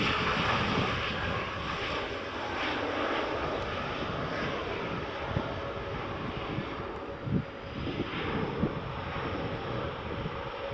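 A Turkish airliner's jet engines roar at Edinburgh Airport, a loud, steady broadband rumble that holds for the whole stretch, with wind buffeting the microphone and a few brief louder gusts near the end.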